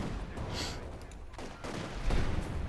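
Company of Heroes 2 battle with a grenade assault, a rapid mix of gunfire cracks and explosive bursts rolling continuously, loudest near the end.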